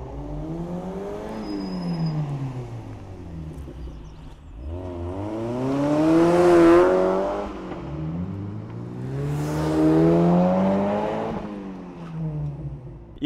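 Mazda MX5 Miata cars being moved around, engines revving up and down in two loud, close bursts separated by quieter idling, with pitch rising and falling as they accelerate, no talking.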